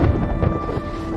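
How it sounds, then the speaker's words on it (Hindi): Thunder rolls through storm clouds in a movie scene as a loud, steady low rumble that fills the whole moment, with a faint tonal hum running beneath it and no talk. "अचानक उन्हें अपने ऊपर बादलों की गरज सुनाई देती है"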